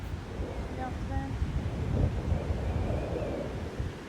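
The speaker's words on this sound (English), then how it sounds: "Very windy." Strong wind buffets the microphone with a constant roar on a Scottish beach, surf washing in the background, and a brief faint voice near the start.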